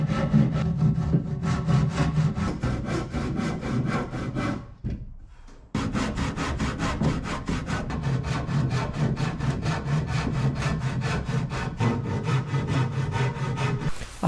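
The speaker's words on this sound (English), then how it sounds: "After chipping off the timber in between two cuts, I had enough room to saw the rest of the timber" Hand saw cutting through timber for a Greenland paddle, close and loud with rapid regular back-and-forth strokes, a brief pause near the middle before the sawing resumes.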